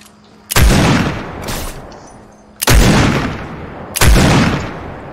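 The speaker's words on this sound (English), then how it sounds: "I don't know how all those shots missed" Three or four heavy gunshots in a PS4 shooter, each a loud close blast with a rolling decay, spaced about a second and a half apart over quiet background.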